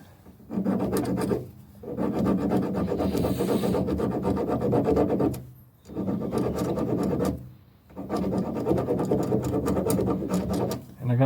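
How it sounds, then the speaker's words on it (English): Metal file rasping ridges off a door handle cable fitting on a Ford E-250, in long steady back-and-forth strokes with brief pauses between bursts, close and fairly loud. "I'm going to do it with a file"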